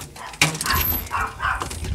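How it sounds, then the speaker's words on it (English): Several pet dogs barking and yelping at home in a short, loud, close burst, mixed with brief human voices. "You're about to hear my dogs."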